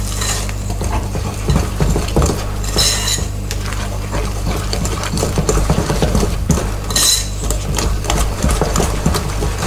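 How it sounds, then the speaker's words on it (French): A spoon stirs cake batter flavoured with vanilla in a bowl for an apple moelleux, scraping and clinking steadily against the sides, close and continuous throughout. "Allez, on mélange ça."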